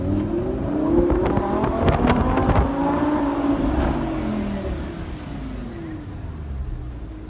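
A Lamborghini Huracan sports car with a naturally aspirated engine revs loud and close, its pitch sweeping up and then falling back in a rising and falling howl, before it settles into a lower, steady drone.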